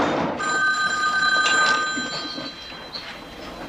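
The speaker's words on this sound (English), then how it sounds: "Aren't you going to answer the phone?" A telephone bell rings loudly indoors with a steady electronic trill that keeps going, with no voices over it.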